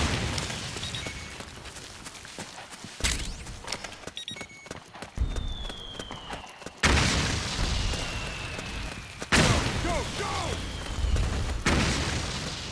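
Mortar explosions in Metal Gear Solid 4: Guns of the Patriots, several heavy booming blasts spaced a few seconds apart over continuous battlefield noise, with some rattling and a high whistling streak between hits.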